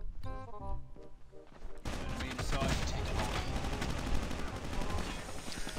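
Gunfire in the mobile shooter Call of Duty Mobile: dense rapid shots and bursts, loud and continuous after a sudden start, with a voice talking early on.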